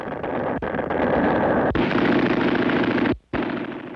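Live ammunition fired by soldiers and Marines in jungle warfare battle training, heard as a continuous roar of rapid gunfire punctuated by several sharp cracks, loud and close, cutting out briefly before resuming.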